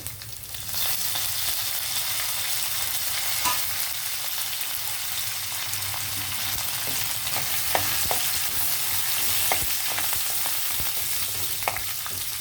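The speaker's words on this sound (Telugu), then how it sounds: "ఈ టైంలో మనం ఎండుమిర్చి కరివేపాకు వేసేయచ్చు" Dried red chilies and curry leaves fry with lentils and garlic in hot oil, a loud, steady, close sizzle with occasional crackles and stirring scrapes running throughout, no voices.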